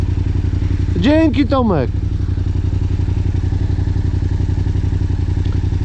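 Quad bike engine idling after being restarted, a steady close rapid putter running throughout, with someone briefly speaking over it early on.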